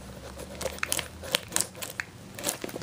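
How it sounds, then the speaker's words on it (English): Plastic wrapping being torn and crinkled off a Score Panini 2014 NFL football trading card box, with irregular close crackling bursts and sharp rips, no talk. "So, as always, I suck at opening plastic."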